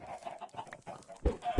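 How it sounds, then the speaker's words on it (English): Chickens on a Minecraft animal farm give a few soft clucks, with two louder, sharper clucks near the end; no talking. "Here are our animal farms. Obviously, cows, chickens."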